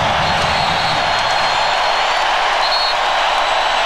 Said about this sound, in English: And this crowd exploding